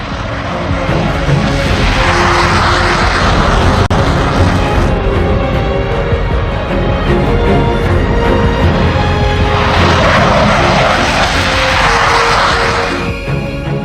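A Rafale fighter jet roars overhead, a loud, continuous engine rumble that surges twice as it passes, with no talk over it.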